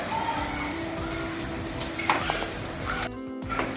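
Onions browning in a pan for a rustic peanut bhajiya curry, giving a steady close sizzle and hiss with a few stirring clicks throughout.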